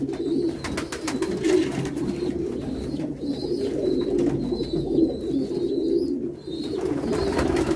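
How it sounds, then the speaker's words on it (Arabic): Pigeons at a water drinker, steady low cooing close by with a few faint higher chirps over a continuous background. "دي واحده كمان جت تشرب، يبقى دي تالت حمامه"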